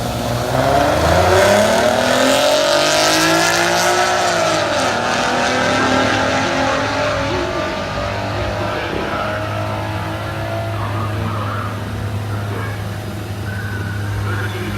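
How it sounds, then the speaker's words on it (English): A 3.7-litre 1993 Ford Mustang drag racing another car on a dragstrip, engines roaring loudly as they launch and pull away, revs rising and shifting over a sustained drone for about fifteen seconds, with faint voices mixed in. "here comes the VI, Mackenzie's favorite car, going against the Mustang on the right-hand side."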